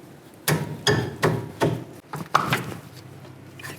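A ratchet with a 14mm socket working loose the lower brake caliper bolt on a 2008-2013 Nissan Rogue, giving about six sharp, close metallic clacks in an uneven rhythm.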